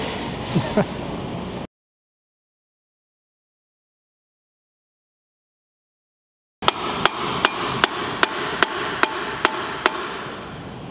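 A hammer strikes metal about ten times in a steady rhythm, sharp and ringing, after a few earlier knocks and a stretch of silence.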